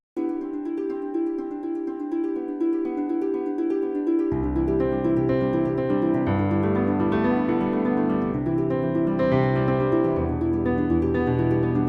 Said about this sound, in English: the harp and the piano would sound like this together